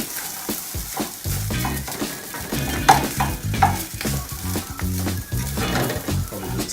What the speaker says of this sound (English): we don't really want it to sizzle and burn